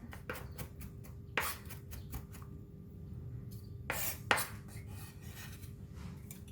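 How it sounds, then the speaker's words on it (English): A knife minces garlic on a cutting board for a Thai spicy corn salad, making sparse, irregular quiet taps and scrapes with no one speaking. "for the garlic, I'm going to really mince it"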